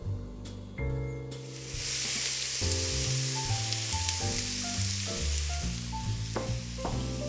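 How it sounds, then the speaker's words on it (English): Onions sweat in a preheated hot frying pan, a steady loud sizzle that rises and holds throughout, with light clinks of a utensil and music playing alongside. "First, I'm going to start by sweating my onions."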